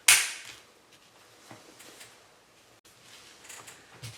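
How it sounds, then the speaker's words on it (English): Ruger Mark III 22/45 Lite pistol dry firing, a sharp close metallic snap of the hammer at the start followed by faint small mechanical clicks and handling noises, no talking. "Now it goes down, and now the gun will fire."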